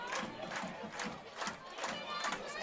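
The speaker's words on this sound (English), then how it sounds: "The Perryville Pirates crowd is going crazy right now." At a Perryville Pirates high school football game, the home crowd roars and chants in rising and falling waves, a dense wall of voices at a moderate distance.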